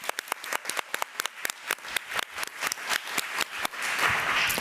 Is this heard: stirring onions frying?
no